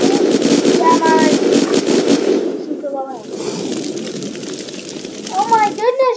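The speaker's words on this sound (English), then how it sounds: "This is the flamethrower gun." A flamethrower in the zombie video game Unturned fires in a continuous roaring, crackling blast, with rising chirpy tones near the end and a person talking excitedly over it.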